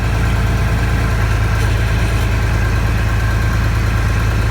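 A fertilizer spreader runs outdoors with its spinners engaged, a loud, steady, low mechanical drone and rumble that holds without a break.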